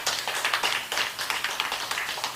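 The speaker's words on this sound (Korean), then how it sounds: "박수를 치려면 크게 쳐주세요." A small group claps at a Korean Buddhist temple memorial ceremony, quick uneven handclaps in a fairly soft, rhythmic patter that runs throughout.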